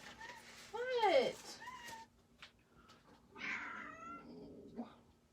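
A pet cat meows loudly twice, with a long rising-falling cry near the start and a second shorter meow, followed by a softer drawn-out caterwaul toward the end, close to the microphone in a quiet room.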